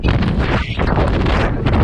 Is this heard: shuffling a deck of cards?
no